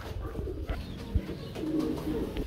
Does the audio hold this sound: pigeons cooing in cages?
yes